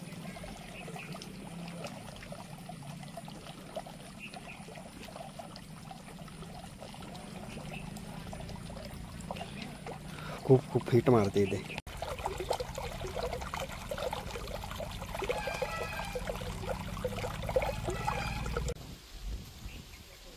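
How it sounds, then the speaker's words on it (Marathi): Water in a hot spring pool at Unhavare near Dapoli bubbles and trickles faintly as a soft, steady wash, with a brief spoken comment partway through. "वाफा येताना पूर्णपणे दिसत आहेत आणि पाण्यामध्ये सुद्धा असे बुडबुड येतात."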